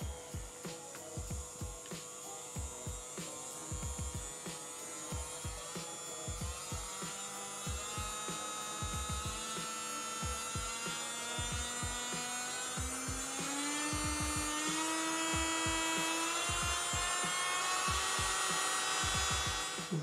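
A Jewhiteny electric nail sander runs at up to 35,000 rpm with a close, steady whine. Its pitch climbs gradually over the run, and quiet clicks and taps sound under it.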